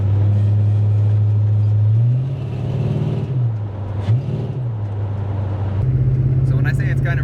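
An LS-swapped El Camino cruises at 55 with the windows up, its exhaust a steady low droning rumble from inside the cab that dips and swells slightly with the throttle.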